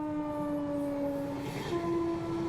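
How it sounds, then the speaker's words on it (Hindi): A train at a railway crossing sounds a long sustained horn, with tonal blasts that shift pitch partway through over a steady rumble of rail traffic, heard from a bike trip in India. "पूरी ट्रिप की ये पहली ट्रेन है जो हम लोग को दिखी है।"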